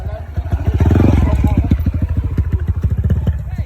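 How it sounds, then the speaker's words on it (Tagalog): A heavily loaded motorcycle carrying a heavy rider climbs a steep uphill track, its engine chugging loud and close in a fast, rapid pulse, with voices nearby. "Gamit yung motor ni Sir Jose."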